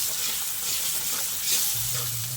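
Masala with karadai (safflower) greens frying and sizzling in a pan while being stirred, a steady close hiss with soft scraping and no talk.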